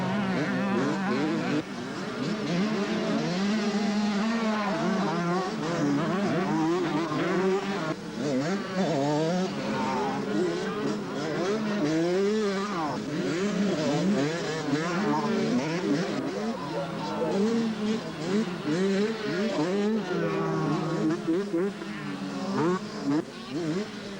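Motocross motorcycles including Kawasaki bikes racing at a schoolboy event at Trentham Gardens in 1983, a dense buzzing swarm of two-stroke engines revving and shifting continuously, moderately distant and steady throughout.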